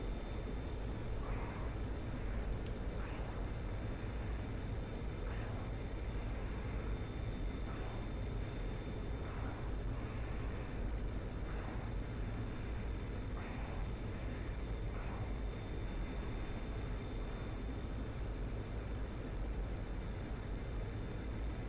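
A Harrier jet hovers in a Cold War setting of a shooter game, giving off a steady, loud engine roar and broadband jet wash that holds without a break throughout, with a faint high whine on top.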